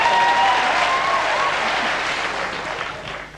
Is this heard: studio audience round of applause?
yes